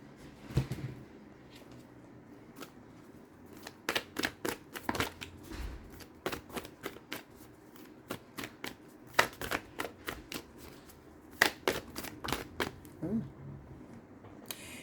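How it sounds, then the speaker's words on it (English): Moonology oracle cards are shuffled in quick bursts of crisp riffling and slapping, close and clear, separated by short pauses across the whole stretch. "I'm going to pull some Moonology cards."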